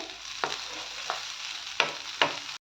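Moong dal fries for halwa with a steady, close sizzle, broken by four sharp scrapes of a spoon stirring across the pan.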